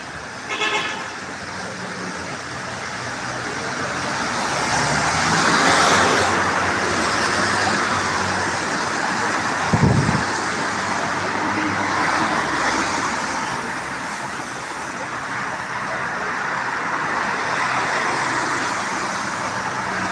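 Dolmuş minibuses pass along a busy Turkish street, with a constant traffic rumble, engines swelling as vehicles go by, and a few short horn toots, the sharpest early on.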